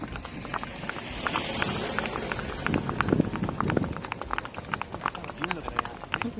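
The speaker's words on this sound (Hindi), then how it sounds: "उसके पीछे ये वाला मेरा वाला घोड़ा चल रहा है" Horse hooves clip-clop steadily along a trail in Pahalgam, Kashmir, a brisk rhythmic clatter of close footfalls with a rider following behind on another horse, under outdoor background noise.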